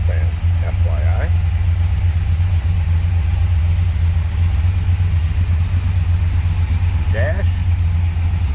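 A 1964 Dodge Polara 500 hardtop with a 426 Max Wedge V8 idles steadily with a deep, continuous low rumble throughout, close and loud, with brief faint talk early on and near the end.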